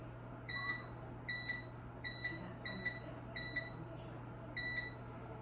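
An oven timer being set for the hardtack bake, giving a series of short electronic beeps in an uneven rhythm over a steady low hum, close by and fairly clear, no speech.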